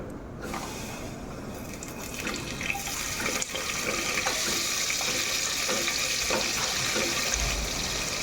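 Two chopped onions hit hot oil in a pan for chicken kurma, giving a steady, soft sizzle with small crackles that builds slightly after the first seconds, heard alone without talking.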